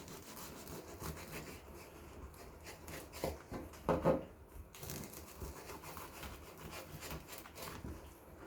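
A knife saws through toasted garlic bread fingers with melted cheese inside, giving soft repeated scraping and crunching strokes at close range, with a slightly louder burst of cutting near the middle and no talking.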